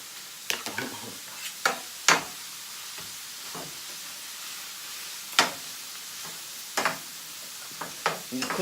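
Onions cooking down in a pan, a soft continuous sizzle broken by sharp scraping strokes of a utensil at irregular intervals, fairly quiet and close.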